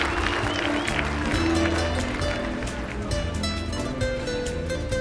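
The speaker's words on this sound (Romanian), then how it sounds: "Aplauze, te rog!" Applause at a Turkish stage show as a transport company guest is honored, mixed with loud music and crowd noise throughout, clapping sustained and blended into a dense, busy mix.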